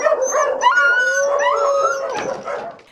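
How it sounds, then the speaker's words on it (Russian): Stray dogs at an animal shelter, including purebreds such as rottweilers, huskies and shepherds, howl and yip together in a loud, close, wavering chorus that fades out at the end. "Сидят в них необычные бездомные псы."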